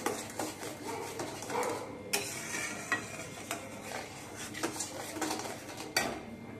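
Aam panna ingredients with sugar being stirred and mixed in a pot, with repeated clinks and scrapes of a spoon against the metal over a faint sizzle, close and quiet with no voices.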